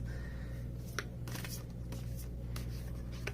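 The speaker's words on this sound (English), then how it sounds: "I would rather corner riffle shuffle it" Someone corner-riffle-shuffles a large tarot deck, producing a few short crisp bursts of card flutter over a steady low hum.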